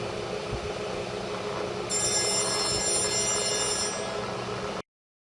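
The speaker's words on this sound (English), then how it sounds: "Oh, there's the phone again." A telephone bell rings steadily through a continuous noisy background, with the bright ringing tone starting partway in and running for about two seconds before the sound cuts off.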